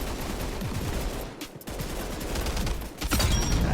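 An automatic gun fitted with a FAMAS stock fires in Weird Gun Game as a dense, loud burst of rapid shots, breaks off briefly, then opens up again.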